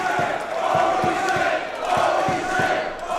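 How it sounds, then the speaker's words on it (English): Wrestling show crowd at the Don Quixote cheering and shouting in appreciation for a cartwheel, a sustained roar with rhythmic pulses like chanting or clapping, loud and close. "the crowd here at the Don Quixote showing their appreciation for Sparky's cartwheel"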